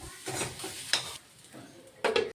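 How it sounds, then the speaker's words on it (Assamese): Boiled potatoes and green chillies frying in butter in a wok, with soft sizzling and bursts of stirring scrapes against the pan, close up and without talk. "কেৰাহীত দিছে এনেকৈ বাটাৰ আৰু দিছে কাটি থোৱা জলকীয়া, আৰু জলকীয়াখিনি অলপ সময় ভাজি আগতীয়াকৈ বইল কৰি থোৱা আলুখিনি তাত দি দিছে"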